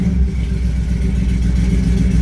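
A carbureted K5 Blazer idles after a cold start, a loud, steady, low rumble close by with a faint uneven lope and no talking.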